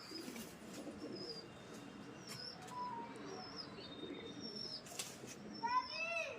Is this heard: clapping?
no